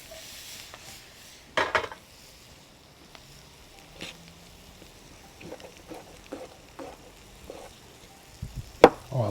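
Eggplant cooking in a pan, with a soft sizzle under scattered clinks and scrapes of utensils against cookware, including a few sharper knocks near the start and end, close and fairly quiet.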